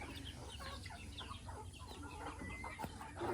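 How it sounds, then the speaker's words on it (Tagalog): Several chickens cluck and chatter in a busy, overlapping flock, fairly quiet and close, with no talking. "Pakain si tatay ng kanyang mga manok."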